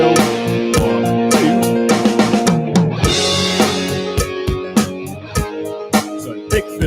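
A big drum fill on a kit, played over a distorted rock backing track: rapid tom and snare hits tumble into a crash, then the groove resumes with regular, punchy strikes.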